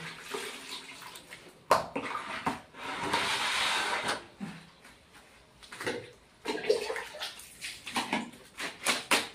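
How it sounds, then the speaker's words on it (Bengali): Soaked clothes washed by hand in water, with irregular splashing, sloshing and wet slaps of fabric at close range, recurring in bursts with short pauses between them. "এখন এই কাপড়গুলা ধুয়ে দেব।"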